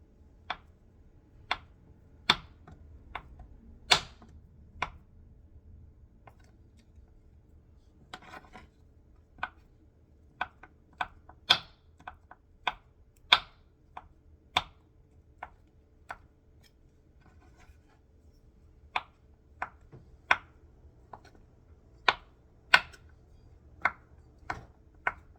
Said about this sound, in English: cut up the butter into tiny pieces.